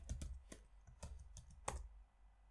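Keystrokes on a computer keyboard entering a program name on a Linux desktop, a handful of separate clicks spaced about half a second apart over a low steady hum, fairly quiet and close.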